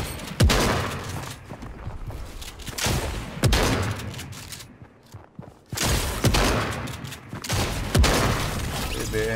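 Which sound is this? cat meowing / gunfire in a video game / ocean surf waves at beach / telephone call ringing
gunfire in a video game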